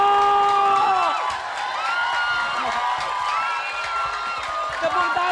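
Studio audience on an Indonesian live TV music show cheers and whoops, with applause and shouting, and music plays loudly throughout the crowd noise.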